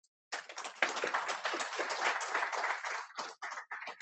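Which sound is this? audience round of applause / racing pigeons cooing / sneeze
audience round of applause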